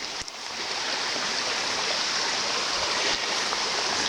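Creek water flowing in Pavil Canyon after heavy rains makes a steady, close rushing and babbling wash, continuous for the whole stretch with a brief knock near the start and no talk.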